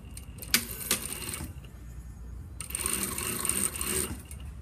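A sewing machine stitches the fly facing seam of a women's fly front zipper in two short runs of quick mechanical whirring, close and moderately loud, with a brief pause between them.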